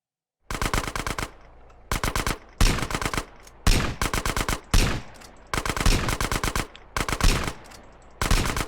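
Automatic gunfire in GTA during a hostage rescue mission, loud rapid bursts of machine-gun fire repeating in short volleys with brief gaps between them, no voices.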